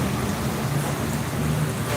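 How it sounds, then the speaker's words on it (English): Steady rain falls on a street in Medellin, Colombia, a dense, even wash of drops that fills the short stretch alone, with no voices. "And the rain is starting to come down."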